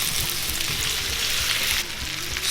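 Halved potatoes fry in olive oil and butter, a loud, even, close sizzling hiss that continues without pause and softens slightly toward the end.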